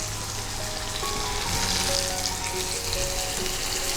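Chili powder going into a South Indian Kozhi chicken curry that is sautéing in a pan, giving a steady, close frying sizzle with faint stirring throughout and no talking.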